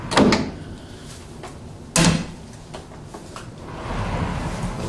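A hidden safe door inside a large hotel wardrobe in a pool suite at the Banyan Tree Macau opens and shuts, with two distinct knocks a couple of seconds apart and faint handling in between.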